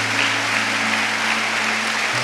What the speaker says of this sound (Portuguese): dê uma salva de palmas para Jesus, porque Ele merece.